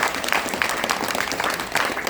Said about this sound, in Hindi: एक बार सबके लिए जबरदस्त ताली बजा दीजिए।